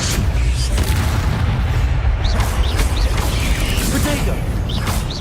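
Repeated fiery spell bursts from the Incendio charm in Hogwarts Legacy, with a deep booming rumble and crackle running continuously and loud under shouted spell incantations.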